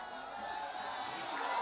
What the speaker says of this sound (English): Shamba to take it, and the crowd backing him again